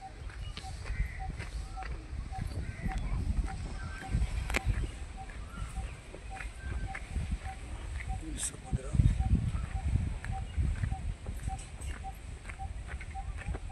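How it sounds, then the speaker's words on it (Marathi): A barbet calls from nearby trees in a repeated, evenly spaced series of hollow pop notes that carry steadily through the whole stretch. The setting is outdoors near a farmhouse by Thane Creek, with footsteps and light outdoor noise underneath. "हा जो आवाज येतोय ना पप पप पप, हा बारबेट पक्षी आहे"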